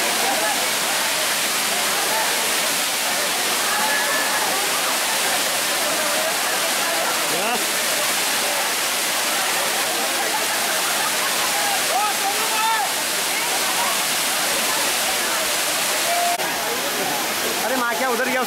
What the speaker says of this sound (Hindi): इधर है बीच में वाटरफॉल के नीचे